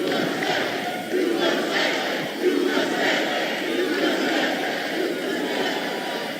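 Crowd at a presidential town hall in Flint, Michigan, roaring and shouting together in sustained waves of cheering, loud and continuous throughout.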